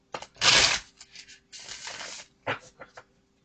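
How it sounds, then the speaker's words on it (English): Quick bursts of card shuffling, a loud riffle followed by several shorter riffles and soft taps, close up with no talking. "I'm going to shuffle these right quick. 3 shuffles."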